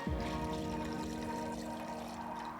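Water pouring steadily into a pot of drained beans, a continuous rushing splash that fills the whole moment at close range, with no voices over it.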